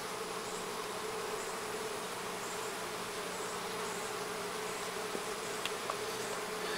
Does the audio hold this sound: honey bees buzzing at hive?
yes